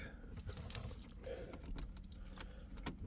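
Keys jangle softly in a small classic Ford as one is slid into the ignition, a faint metallic rattling with a few brief clicks over a low steady background hum.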